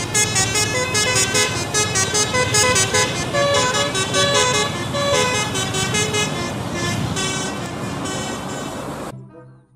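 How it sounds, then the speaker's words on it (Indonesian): An Indonesian intercity bus passes close by on a road, its horn blaring in long, loud musical toots over the rumble of engine and traffic, then cutting off abruptly. "kali ini ada bus Beju teman-teman"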